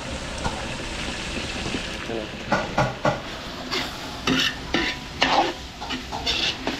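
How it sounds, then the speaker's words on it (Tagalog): Sisig being sautéed in a pan for a catering job in San Miguel, Bulacan, with a low sizzle under repeated scraping and clanking stirring strokes that come in uneven bursts close by. "gigisa lang ito, tapos kuha lang tayo pagkakas"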